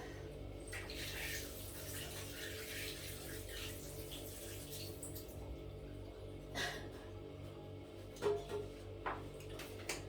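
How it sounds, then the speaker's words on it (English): Running tap water pours steadily into a kitchen sink as hands are washed while roti is being made, a continuous soft hiss with a few brief splashes and clinks near the end. "before I carry on, I'm gonna wash my hands"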